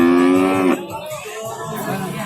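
Pegon cattle at a livestock market in Tuban, East Java, where one cow lets out a loud, near moo that fades into general market murmur and soft background chatter.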